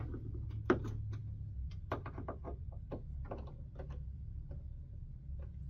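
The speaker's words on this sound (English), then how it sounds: "Then I'm going to take the top screws, get the washer on them." Top screws with washers are fitted on a 1970s Wurlitzer electric piano, giving faint, close metallic clicks and small taps at an uneven rhythm over a low hum, with no voices.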